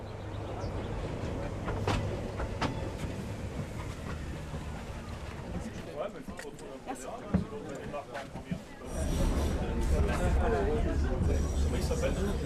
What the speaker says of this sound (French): Le tramway du Mont Blanc, le plus haut train à crémaillère de France.